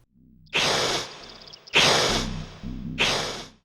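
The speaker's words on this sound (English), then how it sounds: "this is what the paramites are supposed to sound like" Three harsh, breathy hissing snorts from a paramite in Oddworld Adventures on Game Boy, each a loud burst of rough noise with low growly undertones between them, no speech.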